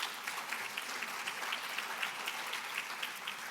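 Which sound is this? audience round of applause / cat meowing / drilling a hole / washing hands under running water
audience round of applause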